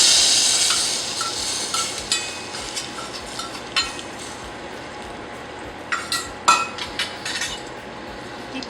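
Seasoning being stirred into cooked dal in a pot, with close metal spoon scrapes and clinks against the vessel over a bright continuous hiss, several sharper knocks near the end, no talk.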